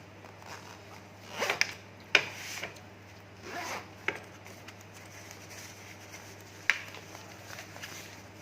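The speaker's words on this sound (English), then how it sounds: "you'll be able to zip up the fabric" Fabric on a baby safety bed fence being zipped up, with several short zipper bursts scattered between pauses over a steady low hum, close and moderately loud.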